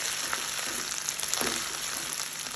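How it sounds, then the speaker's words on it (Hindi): Ginger lightly frying in a pan gives a soft, steady sizzle with a few faint stirring taps, fairly quiet and uninterrupted by talk. "हल्का सा इन्हें फ्राई करेंगे।"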